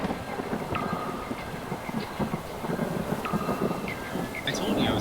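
A thunderstorm in the video game Three-Fourths Home makes a steady rumbling wash of rain and wind, with low rolling thunder building toward the end. Scattered faint tonal chirps sit over it, and no one speaks.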